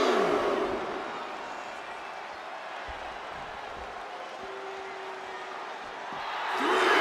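A steady roar of cheering from a wrestling arena crowd in the WWE 2K25 video game, swelling louder at the start and end.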